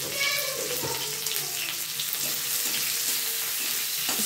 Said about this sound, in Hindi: इसको अच्छे से मिला देंगे।